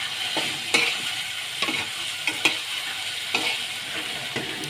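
Vegetable curry stir-fried in a pan, a continuous bright sizzle broken by regular spoon scrapes and knocks every half second or so, close and fairly loud with no voices.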